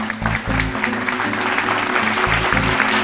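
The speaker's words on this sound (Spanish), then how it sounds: "Vamos a demostrártelo con un aplauso." Audience applause at a public event in Avilés, a steady dense clapping lasting about three seconds with a low musical hum underneath.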